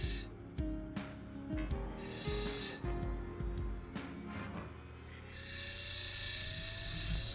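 Ethiopian opal having its edges rolled on a lapidary wheel, a continuous grinding rasp with intermittent scraping contacts and a faint hum underneath, fairly close and quiet.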